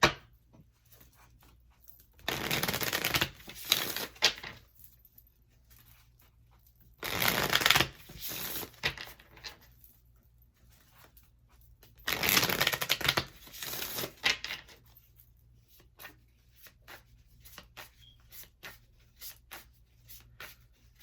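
Tarot cards shuffled and pulled during a card reading, in three distinct bursts of crisp riffling separated by quieter pauses with faint handling.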